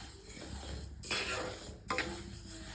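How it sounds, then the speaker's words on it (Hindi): White sesame seeds roasting in a pan for til laddoo are stirred, giving two distinct scraping, rustling strokes of the spoon against the pan over a low background hum. "और इसको चलाते रहिएगा जिससे ये लगे ना।"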